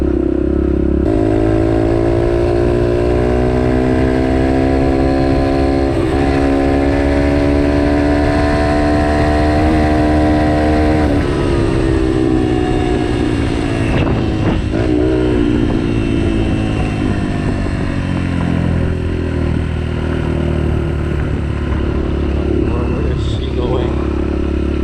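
A 2016 Yamaha 125 dirt bike rides along a trail, its engine droning loudly and steadily with shifting pitch and rev changes, close to the listener, with some clatter over rough ground.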